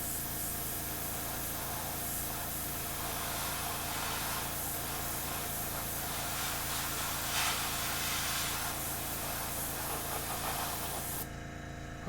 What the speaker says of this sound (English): I'm going to just spray some air at it, try to help that dry a little bit